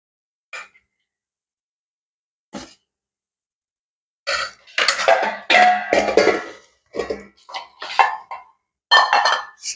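Dinner being served onto plates at home: scattered clinks and scrapes of dishes and serving utensils, a few isolated taps first, then denser close clattering bursts.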